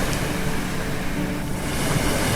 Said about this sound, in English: The waves would come in and run over your toes, and we'd squeal at the cold, and the tiny pebbles would beat at your ankles